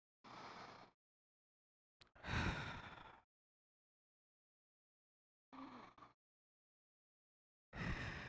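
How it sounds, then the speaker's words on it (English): Three slow, deep breaths are drawn in and let out, each a soft airy inhale and long sighing exhale, close and quiet with silent gaps between them. "So we're going to take 3 deep breaths."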